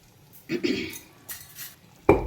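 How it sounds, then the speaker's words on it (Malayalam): Cut mackerel pieces go into a pot of boiling curry with a few close clinks and clatters of utensil against metal, ending in one loud clank. "നമുക്കിനി ഇതിൻ്റെ അകത്തോട്ട് കട്ട് ചെയ്ത് വെച്ചിരിക്കുന്ന അയല പീസ് ഇട്ട് കൊടുക്കാം"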